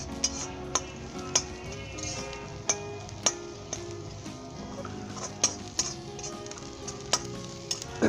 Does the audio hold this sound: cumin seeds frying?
yes